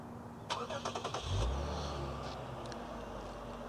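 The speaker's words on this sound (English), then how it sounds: "Now it is probably the longer remote startup sequence of out of pretty much any vehicle that I've ever tested remote start on" A Lexus IS350 F-Sport sedan starts up by key fob remote start: a quick burst of starter cranking catches into a loud low engine rumble, then settles into a steady idle.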